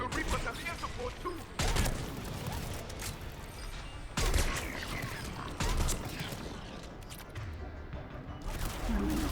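Bursts of gunfire in the sci-fi shooter Mass Effect 3, several loud volleys breaking through a dense din of combat noise and creaking mechanisms across a chaotic firefight.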